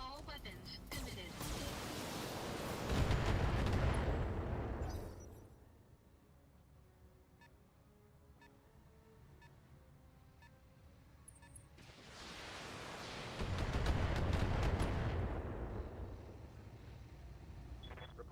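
Mech weapons in the Battletech video game fire in two heavy, roaring broadband barrages, each lasting a few seconds, separated by a quieter stretch of rumbling background.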